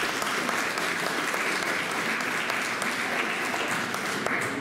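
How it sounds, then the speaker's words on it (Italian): Crowd applause at a living nativity event in Panettieri, a thick, even wash of many hands clapping together, somewhat distant and moderately quiet, sustained evenly throughout without speech. "Poi facciamo un applauso."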